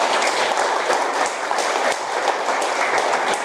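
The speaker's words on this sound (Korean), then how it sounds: "이 두 분 위해서 박수 한번 보내주시죠." An audience at a Korean gathering applauds, dense continuous clapping filling the room at a steady moderate level with no talking.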